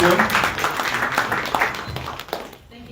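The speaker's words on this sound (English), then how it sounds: "let's give our candidates a round of applause." An audience applauds political candidates at a Monday Night Politics forum in Dallas, a steady wash of clapping that fades out toward the end, with a voice speaking over it.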